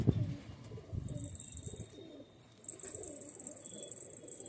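Young pigeon in a fancier's loft in Amravati, Maharashtra, cooing in low repeated murmurs close by, with bird chatter and a faint high whine in the background.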